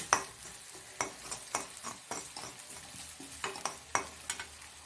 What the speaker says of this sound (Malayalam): എന്നിട്ട് കരിവേപ്പില ഇടുക.